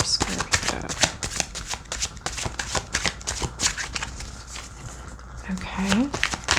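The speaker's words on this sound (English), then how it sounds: "this card has been a very popular card, which is exactly why I love to like ridiculously over shuffle" Tarot cards are shuffled over and over in rapid, close riffling bursts, a dense crisp flutter of card edges that goes on without pause, with a faint voice murmuring in the background.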